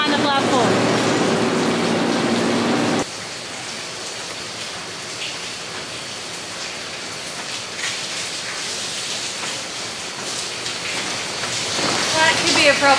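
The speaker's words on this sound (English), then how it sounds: "The rain's super light now, which makes it really pretty up on the side of the mountains here." Light rain falls steadily outdoors near mountains beside a moored sailboat, a soft continuous patter that grows a bit louder toward the end, with a brief louder wash at the start.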